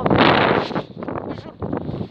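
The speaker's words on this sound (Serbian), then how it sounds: "Čujete vetar, čujete nižavu, odnosno reku." Strong gusty wind buffets the microphone on a bridge, with a broad rushing wash of flowing river water below, loud up close and fading briefly midway.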